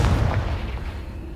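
Confringo blasting spell in Hogwarts Legacy, a single deep booming explosion that starts hard and rumbles away over about a second.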